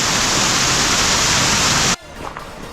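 Waterfall in the Romanian Carpathians, a loud continuous hiss of rushing water that cuts off abruptly near the end, leaving quieter outdoor ambience.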